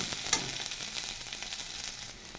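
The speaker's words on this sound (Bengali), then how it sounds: "পেঁয়াজ ভাজা হয়ে গেছে দিয়ে দিচ্ছি মটরশুঁটি" Sliced onions frying in a small amount of oil in a pan with dried red chillies, making a continuous close sizzle with faint stirring, no voices.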